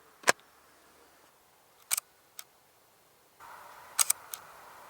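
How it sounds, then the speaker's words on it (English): A large format 4x5 camera's shutter fires several times in a quiet room, crisp close clicks, with one pair of clicks spaced apart for a longer exposure and a faint hiss rising near the end. "you can hear that kind of difference with a large format lens"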